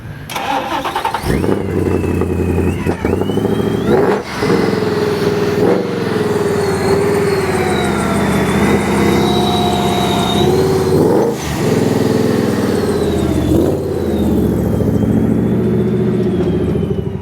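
A Ford truck's engine revs loudly and close at a large F100 truck show, with repeated throttle swells and shifting pitch as it pulls away, steady rumble underneath throughout.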